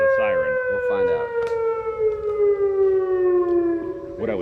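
A loud civil-defense-style siren wails at a baseball game between the Twins and Yankees, one long steady tone slowly falling in pitch, with a voice talking over its start and end.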